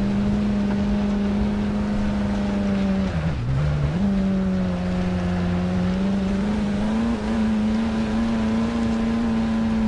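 A car in a video game drives across an open field, its engine droning steadily and loud, dipping briefly in pitch partway through before settling back to an even hum.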